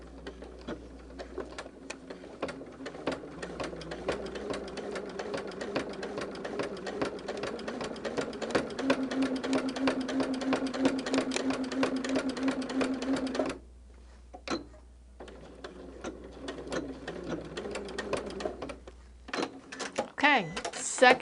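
A sewing machine runs steadily while stitching a quilted holiday table runner, a dense rapid whir that stops abruptly, then resumes in shorter bursts with a brief pause, and faint speech is present.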